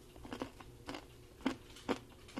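Bites into crunchy breaded fried chicken livers, four or five distinct crisp crunches spaced about half a second apart, close and fairly quiet with no talking.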